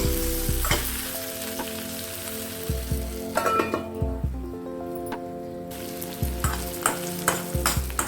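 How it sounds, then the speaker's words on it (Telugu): Bitter gourd pieces fry in oil, a steady bubbling sizzle punctuated by repeated scraping stirs of a spatula, heard up close beneath a looping melodic music track. "కాకరకాయ వేగిందేమో చూడండి. చక్కగా వేగిపోయింది."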